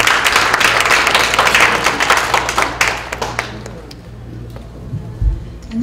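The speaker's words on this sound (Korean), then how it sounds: "우리 힘차게 박수로 환영해 주시기 바랍니다." Hearty applause from a church congregation welcoming a missionary speaker at a prayer gathering, loud and dense at first, then thinning out into scattered claps with faint background noise.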